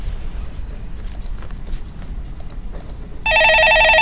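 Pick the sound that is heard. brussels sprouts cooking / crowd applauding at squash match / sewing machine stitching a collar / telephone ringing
telephone ringing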